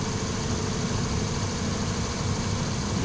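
A balancing machine spins LS engine parts up toward higher RPM, giving a steady, fairly quiet mechanical whir and hum that holds even and continuous for the whole stretch, with no voices.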